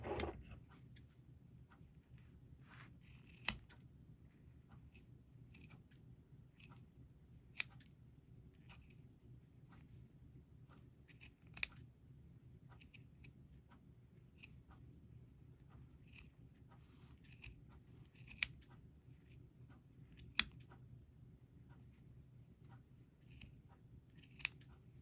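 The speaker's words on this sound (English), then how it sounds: "Cut that in, trim it off" Scissors trimming yarn on a pom pom give faint, sparse snips, about eight quiet clicks spread unevenly over a soft steady background hum.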